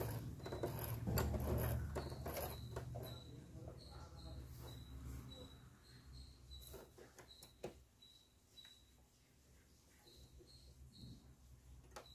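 A Brother sewing machine stitching, its steady whirring mechanical run with rhythmic ticking of the needle mechanism, heard close and fairly quiet throughout.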